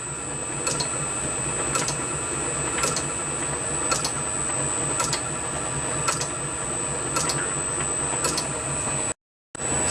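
A metal lathe turns a small metal washer, giving a steady close mechanical whir with a regular ticking repeat and a faint whine, continuous until a brief cutout near the end.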